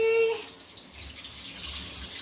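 A newly replaced kitchen faucet switched to its shower-spray mode gives a steady, close hiss of water splashing into a sink, following a brief tonal squeak at the start, with a voice faintly audible underneath.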